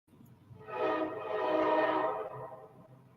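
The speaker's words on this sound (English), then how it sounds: "I live in the city and the train is passing by." A train horn sounds over a passing train in a city, one long swelling blast lasting about two seconds, fairly loud and fading out as the train moves on.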